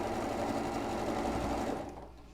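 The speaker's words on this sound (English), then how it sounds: "we're just going to sew all the way to the end" A sewing machine runs steadily, stitching a fabric seam with a fast, even whir for about two seconds before slowing and stopping near the end, close and alone with no talking.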